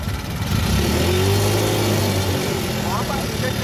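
A car engine that has just been switched on runs steadily with a low, even hum and some rising revving, close and continuous, with faint voices in the background.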